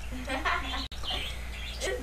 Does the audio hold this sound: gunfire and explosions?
no